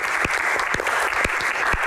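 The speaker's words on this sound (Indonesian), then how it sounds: "tepuk tangan luar biasa untuk Ibu Halida" Audience applause for Ibu Halida at a Q&A event, loud, steady clapping from a crowd with a few sharper claps standing out at regular intervals, sustained throughout.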